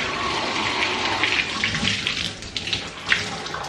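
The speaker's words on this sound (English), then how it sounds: "We're just gonna rinse it out." Running water from a tap splashes steadily as an exfoliating washcloth is rinsed under it, a close, continuous hiss with a few brief splashy surges toward the end.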